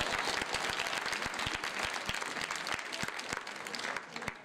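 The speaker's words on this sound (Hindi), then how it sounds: "ताली दे भैया।" Children at a school Basant Panchami and farewell party clap together, a lively continuous applause with distinct sharp individual claps throughout, fairly close and steady for several seconds.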